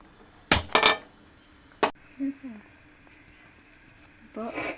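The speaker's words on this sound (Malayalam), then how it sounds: "അപ്പോൾ ഇനി ഞാൻ ചട്ടി അടുപ്പത്തേക്കട്ടെ" A cooking pan set down on a kitchen stove gives a few sharp, close metallic clanks, two in quick succession and one a moment later, followed by brief talking.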